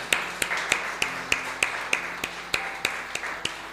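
A church congregation claps in a steady, even rhythm: sharp, evenly spaced beats about three per second, moderately loud over a soft background hum.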